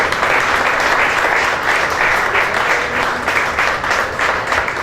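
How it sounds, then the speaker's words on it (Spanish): A church congregation breaks into loud, sustained applause, dense and steady for several seconds without letting up, with no voices heard over the clapping. "Un aplauso al Señor."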